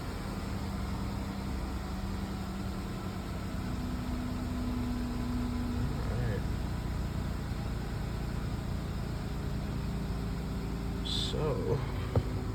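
A 2013 Dodge Charger SE with a 3.6L V6 idles just after an oil change, giving a steady, fairly quiet low engine hum with a few faint brief clicks and knocks near the end.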